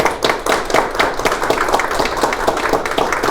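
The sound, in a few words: applause at an agreement signing ceremony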